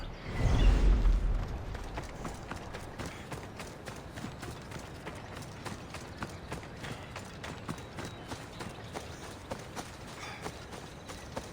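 Steady hoofbeats from Assassin's Creed Odyssey clip-clop at a walking pace after a brief low rumble at the start, moderately close and continuing evenly throughout.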